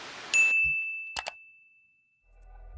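Bright bell ding with a long ringing tone, followed by a couple of quick metallic clinks, then near silence and a low rumble at the end.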